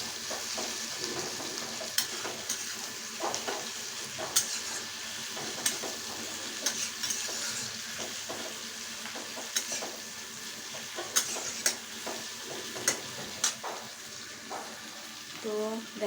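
Onion frying in a pan with a little salt, heard as a constant sizzle with frequent spatula scrapes and taps against the pan, close and alone with no talk.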